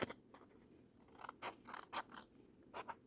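Scissors cutting a strip off paper or card for a DIY Easter basket, several quiet crisp snips in close succession, alone.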